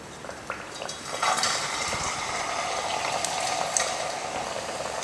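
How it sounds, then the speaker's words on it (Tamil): Pieces of vethala valli tuber fry in hot oil, giving a steady, fairly loud bubbling sizzle that runs evenly throughout with no voices. "இப்போ எண்ணெய் நல்லா சூடு ஏறிடுச்சு. இப்போ எண்ணெயில் இந்த கழுங்கு போட்டுக்கலாம்."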